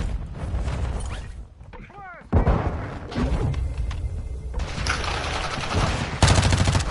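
Video game gunfire crackles in repeated bursts and rapid volleys, loud and close, with heavier booms, under players talking.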